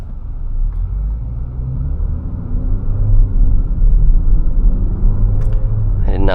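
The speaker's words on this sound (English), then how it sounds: "So it does sound like a 4-cylinder turbo" A 2025 Infiniti QX60 VC-Turbo four-cylinder turbo engine drones steadily while driving, a low continuous rumble with road noise that swells slightly mid-clip, heard from inside the cabin.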